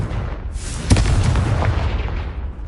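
A Confringo blasting spell in Hogwarts Legacy on PS5 explodes as one sharp, loud burst followed by a rumbling, booming tail that slowly fades.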